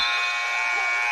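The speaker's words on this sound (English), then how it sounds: "At the buzzer." At a high school wrestling match between Roseburg and Grants Pass, a steady electronic buzzer sounds for just over a second. The tone is flat and continuous and carries through the gym at moderate distance.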